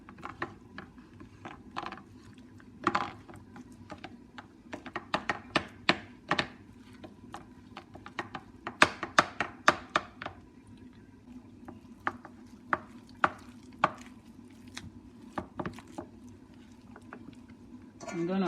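Stock being stirred into egusi soup in a pot, irregular scraping and clacking knocks of a spoon against the pot, close and fairly quiet, with a voice talking at times.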